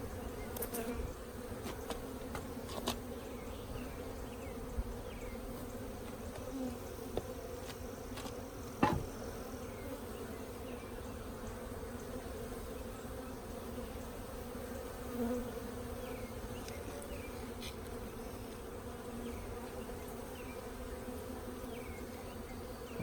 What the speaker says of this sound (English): there's a lot of bees on it, keeping the brood happy.